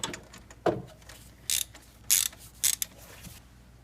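Wrench ratcheting on a Toyota RAV4 timing belt tensioner adjuster bolt, with a few separate close bursts of clicking and grinding mechanical noise spaced over several seconds, preceded by a softer creak.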